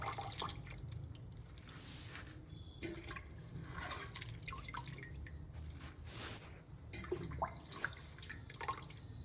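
Spinach leaves and a little coriander being washed by hand in a bowl of water, with soft splashing and dripping throughout, moderately near and steady, no talking.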